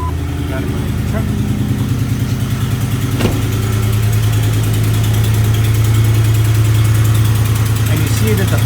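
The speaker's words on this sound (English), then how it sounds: "Turn the truck on." A 2004-08 Ford F150 truck engine idles after starting, a loud, steady close-up rumble with a regular low pulse, joined by a brief click partway through.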